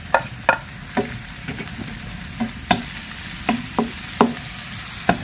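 Garlic and onion sautéing in hot oil give a steady close sizzle, with scattered scraping and clanking of a utensil stirring in the pan throughout, and no voices.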